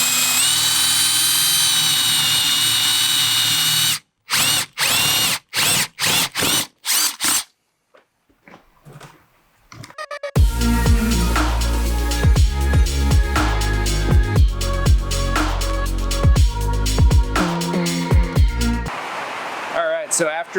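A power drill bores through a live edge wood countertop in a school bus kitchen build, with bursts of close, loud drilling and stops, then a long whining spin with ratcheting clicks.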